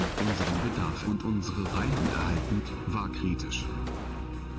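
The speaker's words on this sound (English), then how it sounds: "A withering barrage of gunfire quickly envelops the residential compound" Rapid bursts of gunfire in the game Combat Mission: Battle for Normandy crackle and pop in a dense barrage around a residential compound, with a voice speaking over the shooting throughout.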